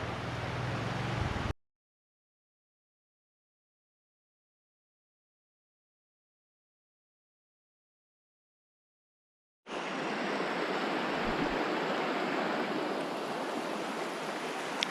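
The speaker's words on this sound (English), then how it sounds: "Selway River." The Selway River rushing steadily as broadband water noise, heard for a moment at the start, then broken by a long stretch of silence before the flow returns at the same level.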